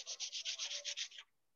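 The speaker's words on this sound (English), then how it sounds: "So I got some 200 grit sandpaper here." Close, rhythmic back-and-forth scratching of 200 grit sandpaper on a metal piece for electro-etching, about nine even strokes in quick succession before stopping, with no voices.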